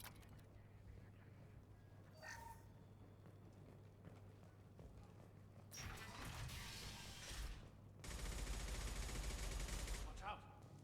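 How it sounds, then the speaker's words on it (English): Submachine gun fire in the game Mass Effect 2: brief bursts of rapid automatic shots, the loudest near the end, with mechanical clicks and a low hum between the bursts. "I do use submachine guns."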